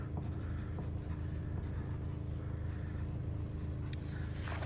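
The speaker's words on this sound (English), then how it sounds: "grab a pencil from your bin and write your name and code on the back." A pencil scratches on the back of a sheet of paper in an art class as a name and code are written, a close, continuous scratchy rasp with short strokes and brief lifts, without speech.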